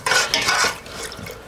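Utensil stirring and mixing ingredients for a Gilan-style fish dish in a bowl, two quick scraping, clinking strokes up front followed by softer stirring, close and moderately loud with no speech.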